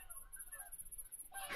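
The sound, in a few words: geese honking as a flock lands in a field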